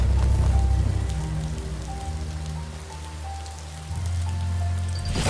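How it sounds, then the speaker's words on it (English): Rain falls steadily in the video game Biomutant as a dense, even patter, with low rumbling tones and faint tonal game sounds underneath. "Might as well just dive in that rain and get wet."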